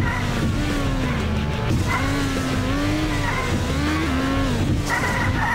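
Several cars race past in the Extreme Car Driving Simulator video game, engines droning loudly and continuously with shifting pitch, with repeated tire squeals and skids cutting through.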